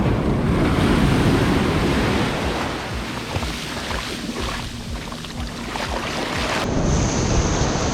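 Ocean waves wash onto a beach at Koh Lipe, Thailand, in steady surf with wind rushing across the microphone. The surf stays loud and continuous throughout, with no one speaking.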